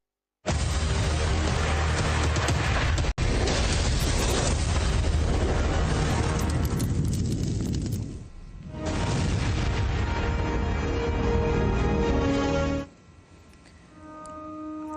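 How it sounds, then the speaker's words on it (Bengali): Repeated explosions boom in Tehran, Iran, as a dense, sustained roar of blasts and rumbling that stays loud for long stretches, eases briefly, then returns before fading. "একের পর এক বিস্ফোরণের আওয়াজ।"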